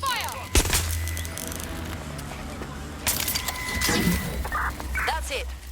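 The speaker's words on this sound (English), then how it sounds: "Shots fired!" Gunfire in the video game Watch Dogs: Legion, with sharp shots and bursts over continuous street and car noise while voices shout.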